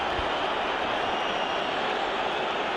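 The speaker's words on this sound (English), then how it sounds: "the crowd are cheering and the crowd are whistling" A stadium crowd at a Real Madrid vs Athletic Bilbao La Liga football match roars in a dense, continuous wash of cheering and whistling, steady and loud throughout.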